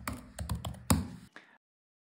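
Quick keyboard shortcuts typed on a computer keyboard while linking notes in Apple Notes: a rapid burst of close, crisp key taps and clacks, one stronger press near the end, then silence.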